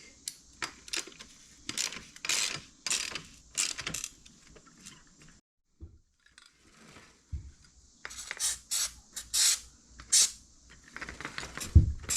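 Metallic clicks, ratcheting and clinks of a wrench tightening the rear axle on a Kayo KMB 60 dirt bike, in close, irregular bursts with a brief quiet gap midway.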